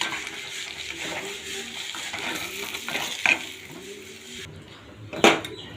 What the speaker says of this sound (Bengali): হালকা ভাজা ভাজা করবো বন্ধুরা।